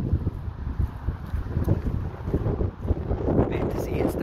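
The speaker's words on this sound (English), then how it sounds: "And there's the wind." Steady wind roaring and buffeting the microphone outdoors at Ravenstruther, a broad continuous rush with gusty swells throughout and no other clear sound.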